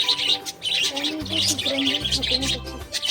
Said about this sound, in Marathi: किती सारे पक्षी आहेत बघ वा वेगवेगळ्या कलरचे